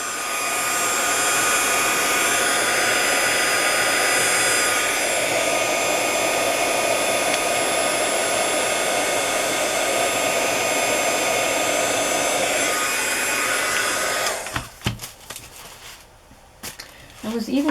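A heat gun blasts a steady, loud roaring airflow while melting embossing powder for journal ephemera, running continuously for about fourteen seconds before cutting off, with faint handling noises and a voice following.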